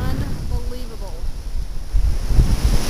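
Ocean surf rolls onto a beach at Gulf Shores, a low rushing wash under strong wind noise on the microphone, with a voice speaking briefly early on.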